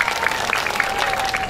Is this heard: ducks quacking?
no